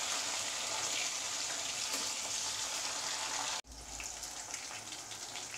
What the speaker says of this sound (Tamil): கடுகு பொரிஞ்சிருச்சு, பச்சை மிளகாய் போட்டுடலாம்.